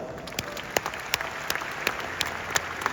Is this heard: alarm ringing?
no